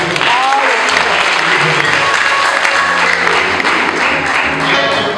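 A church congregation claps loudly and steadily throughout, dense applause mixed with crowd voices and a background of music.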